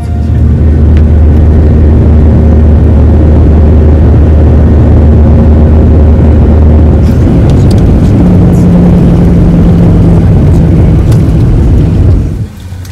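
Loud, constant droning roar of jet engines heard from inside a full airliner cabin on a flight from Athens, steady throughout, with a brief shift in tone partway and a drop at the end.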